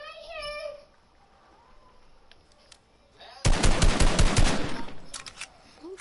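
Rapid burst of video-game gold pistol gunfire, a dense string of sharp shots lasting over a second, loud and close, following a short high-pitched squeal and quiet game ambience.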